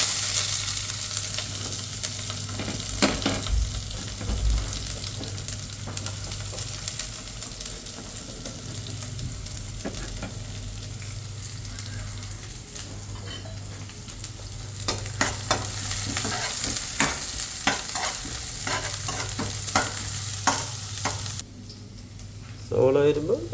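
Onions fry in a pan after mustard seeds have popped, a continuous sizzle broken by repeated scraping stirs and clinks, with a voice speaking over the cooking and a brief drop at the end.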